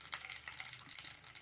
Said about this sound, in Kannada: ಈಗ ಆಯಿಲ್ ಬಿಸಿ ಆಗಿದೆ. ಇದಕ್ಕೆ ನಾನು ಸ್ವಲ್ಪ ಸಾಸಿವೆ ಸೇರಿಸ್ಕೊಳ್ತಾ ಇದ್ದೀನಿ